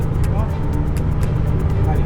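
A Mercedes Axor 3344 truck descending on engine brake gives a loud, steady low rumble with a constant drone, no clear pitch change, and a faint rhythmic pulsing on top.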